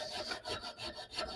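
A hand file rasps across the steel guard of a stiletto dagger in steady back-and-forth strokes, about five close scraping passes with brief gaps between them.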